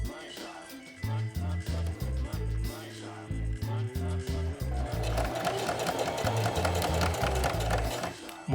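A sewing machine stitches elastic onto a homemade surgical mask, with close, rapid mechanical chattering that runs in short stop-start bursts before settling into a longer continuous run.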